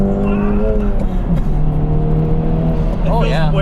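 An Acura Integra Type S revs hard toward redline, its engine note climbing and droning loud and close throughout, with voices talking over it.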